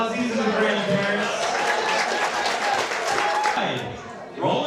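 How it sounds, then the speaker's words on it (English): A wedding reception crowd applauds the grandparents, steady clapping filling the room while voices talk over it throughout, thinning briefly near the end. "We can give them a round of applause"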